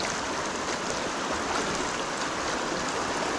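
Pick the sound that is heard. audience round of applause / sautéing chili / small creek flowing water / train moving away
small creek flowing water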